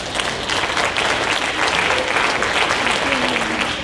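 A crowd at an outdoor protest rally claps together in a loud, sustained wave of applause, with faint voices underneath.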